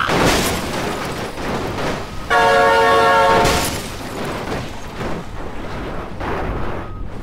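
A train horn blasts loud and steady for about a second mid-clip over continuous rumbling and clatter of a passing train in the BeamNG Drive driving game, near and dominant throughout.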